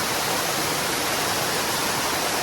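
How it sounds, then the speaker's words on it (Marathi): A waterfall pours over rock nearby, a dense, loud, unbroken roar of rushing water that fills the whole moment with no voices. "कातळून आलेला हा धबधबा पार करत करत आम्ही पुढे जात होतो"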